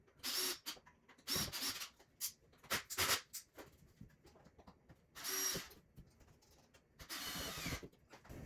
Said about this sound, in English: So I'll go ahead and secure this with the screws.